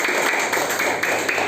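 Students in a classroom clap together in a dense, steady patter of applause for a second or two, loud and close, with no talking.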